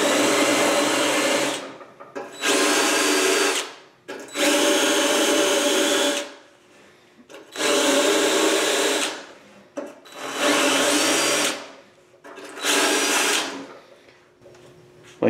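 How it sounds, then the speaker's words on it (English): Drill-driven stripping tool removing paint from a Mustang door, whirring in six loud bursts of one to two seconds each separated by short pauses, close and alone. "I try to use it in a drill just to keep the speed down a little bit"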